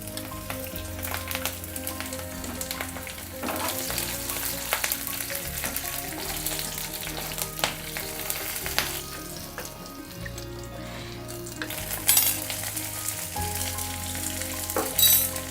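Cumin, dried chillies and bay leaf fry in oil with a continuous soft sizzle, while a spoon stirs and clinks repeatedly against the pan, with a low steady hum underneath.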